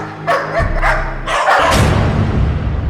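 A house dog barks in a few sharp, yappy bursts near the microphone, the barks running into one another with a whimpering edge, loud and alone without speech.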